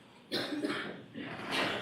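Coughing in a courtroom during witness testimony, a few harsh bursts in quick succession, close and fairly loud.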